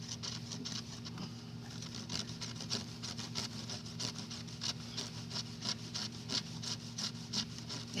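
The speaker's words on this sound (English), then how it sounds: "The branch I'm cutting here is actually a dogwood." A Camillus Carnivore X knife saws through a dogwood branch in steady, rhythmic rasping strokes, close and fairly loud, with a low steady hum underneath and no talking.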